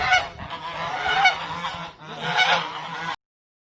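Geese honking loudly and repeatedly in a farmyard flock, overlapping calls in two dense bursts close by, with no talk, then an abrupt cutoff.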